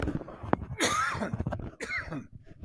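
Someone coughs several times, harsh and close, in a short rough fit with brief pauses between bursts.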